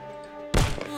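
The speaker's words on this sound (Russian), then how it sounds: "Так, два выстрела в голову." A single sharp gunshot bursts out in the tactical game Jagged Alliance 2 against a steady in-game hum, loud and close, with a short ringing tail.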